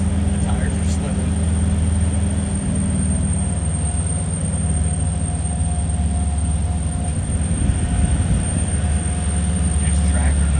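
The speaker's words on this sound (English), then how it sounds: "My guy's in 4 low and the tires are slipping." A vehicle in four-wheel-drive low climbs a steep road on Bequia, its engine a loud, steady, low roar throughout as the tires slip, with rumble and road noise dominating.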